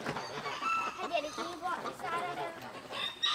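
Chickens cluck and chatter inside a small coop, their calls mixed with people talking nearby throughout.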